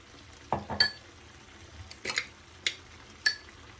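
A spoon stirs spice masala through mutton curry in a pan, giving a few scraping strokes and metallic clinks spaced over a few seconds against a faint background.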